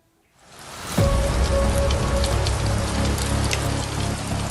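Egg-sized hail hammering down in Stepanavan, starting abruptly and becoming a loud, dense, continuous clatter on surfaces that continues steadily to the end.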